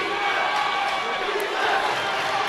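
A basketball crowd cheers in a continuous, steady roar that fills the arena at a moderate level, with faint court sounds above it.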